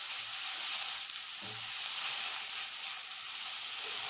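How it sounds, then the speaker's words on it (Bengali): Chopped onions frying in a pan for a Bengali milk chicken dish, a steady close hiss of sizzling oil running throughout with a faint stir or clink near the middle. "আমি পেঁয়াজটা ভাজবো"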